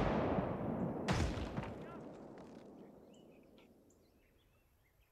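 A single American artillery shot fires in the Gates of Hell: Ostfront strategy game, a loud booming blast followed by a long rumbling decay that fades over several seconds, with no other sounds.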